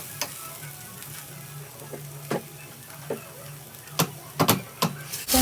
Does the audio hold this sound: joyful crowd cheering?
no